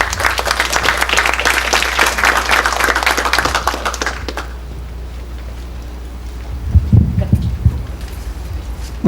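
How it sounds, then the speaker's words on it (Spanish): Applause from an audience at a World Water Day event welcomes a speaker, brisk, dense clapping for about four seconds that stops abruptly, followed by low hum and a few muffled thumps. "Lo recibimos con un fuerte aplauso."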